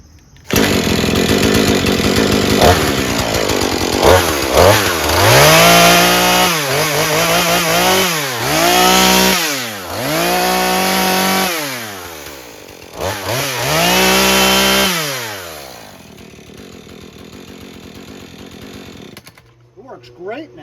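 A Husqvarna 435 gas chainsaw with a 40cc X-Torq engine and 16-inch bar, loud and close, repeatedly revving up to a high scream and dropping back toward idle in several sharp bursts before it cuts off.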